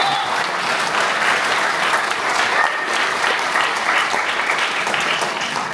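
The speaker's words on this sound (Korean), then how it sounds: "박수 좀 쳐요" A Korean church congregation at a special revival meeting in Wrocław, Poland, claps together after a blessing, dense, even applause sustained throughout at close range.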